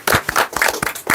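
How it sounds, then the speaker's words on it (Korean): Group clapping to welcome a guest at a mission gathering, a short burst of loud close hand claps in an irregular rhythm. "김충남 씨 박수로 환영합시다."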